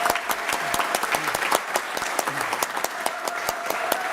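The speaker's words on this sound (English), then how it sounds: "these guys deserve a round of applause." An audience at a city council meeting applauds an orchestra with steady, dense clapping that holds from start to finish, moderately loud and close, with no talking.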